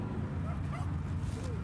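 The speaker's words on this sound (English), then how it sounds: "A dog's barking at somebody or something." A dog barks and yips faintly at a house where a burglary is reported in progress, with short, thin calls sounding distant beneath a steady background rumble.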